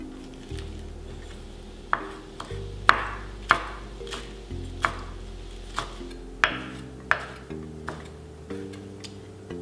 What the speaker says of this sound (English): I'm just gonna roughly chop these and then add them to the sauce